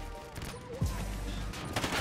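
Gunfire in the video game Call of Duty: Ghosts, a brief burst of shots amid game noise and a short talking voice.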